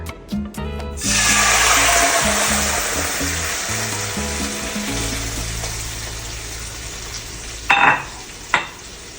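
Teriyaki sauce and chicken sizzle loudly in a stir-fry pan with a steady, broad hiss that fades slowly, while a low hum runs beneath. Clinks and scrapes sound at the start, and two sharp stirring scrapes come near the end.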